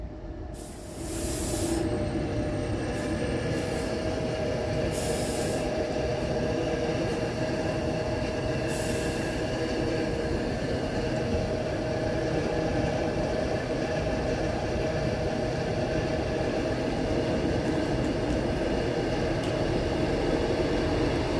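A Northern class 158 diesel train at Meadowhall station gives a steady, loud engine drone and rumble with a hissing wash, continuing alone for about twenty seconds with no talk.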